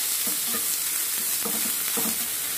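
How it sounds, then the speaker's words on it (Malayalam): Chopped onion frying in hot coconut oil, a steady bright sizzle with a few soft stirring knocks, close and alone. "വെളിച്ചെണ്ണ ചൂടായി കഴിയുമ്പോൾ നമുക്ക് അരിഞ്ഞു വെച്ചിരിക്കുന്ന സബോള അതിലേക്ക് ഇട്ട് കൊടുക്കാം."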